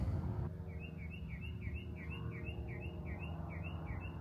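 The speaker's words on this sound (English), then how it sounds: "Ah, the chirping of the birds" Birds chirp in a quick, repeating series of high tweets, fairly faint over a steady low background hum, at an air museum.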